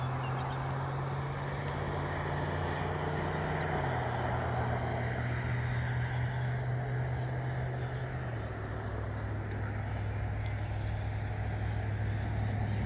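The engine of a CRJ-600 regional jet in a flight simulation holds a steady, loud drone at full throttle for the whole stretch, with the pitch stepping down slightly twice and no talking.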